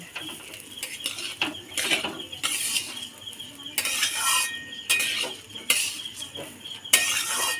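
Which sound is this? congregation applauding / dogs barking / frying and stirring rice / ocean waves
frying and stirring rice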